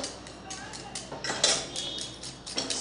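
Pancake batter is whisked in a bowl, the whisk clinking against the sides in quick, irregular strokes, close and moderately loud, with voices in the background.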